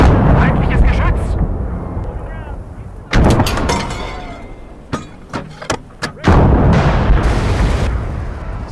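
Heavy artillery and gunfire in the WWII game Gates of Hell boom repeatedly, with loud blasts and sharp shot cracks in bursts over a rumbling battlefield din, while voices talk over the action.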